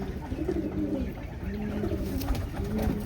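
Soft, repeated low cooing of a young spotted pigeon, several throaty calls in a row, fairly close against a faint hum.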